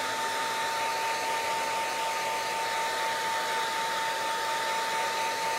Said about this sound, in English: I'm gonna hit this with the air dryer real quick.